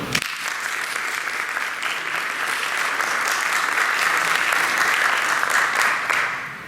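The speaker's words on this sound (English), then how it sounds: "Now it's time to applaud." A school board of education meeting audience breaks into applause after a vote, a dense, steady clapping that rises slightly and holds before tapering off at the end.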